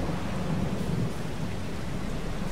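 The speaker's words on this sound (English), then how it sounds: "Man, that thunder is coming down hard." A thunderstorm in the video game Farming Simulator 22: steady, dense rain hisses loudly throughout, with a low rumble of thunder rolling beneath it and no talking.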